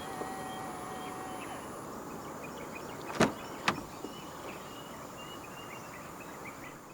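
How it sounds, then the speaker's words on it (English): A 2024 BYD Seal Standard Range Dynamic unlocks from a front door handle button: two sharp mechanical clunks about half a second apart over a quiet outdoor background. "And to unlock the car, just press any of the buttons on the front door handles again."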